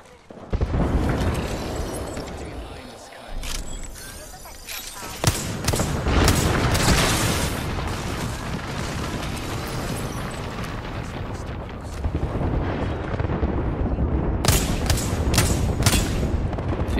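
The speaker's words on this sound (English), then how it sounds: "Throwing grenade." Grenade blast in a team shooter video game, a loud booming explosion with a long rumbling tail among continuous gunfire and further bangs, close and dense.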